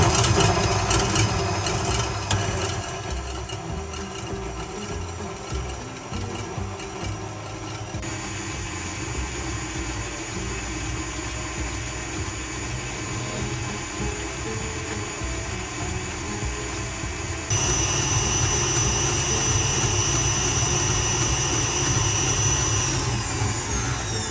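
An electric mixer whips cream toward butter with a continuous loud motor whir and churning noise, shifting pitch and intensity twice as the speed changes, no talking.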